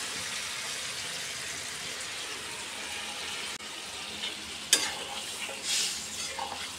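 Ground poppy seed paste thinned with a little water and cooking on a high gas flame, a steady close hiss and bubbling simmer with a few brief clinks and stirring scrapes partway through, no voices.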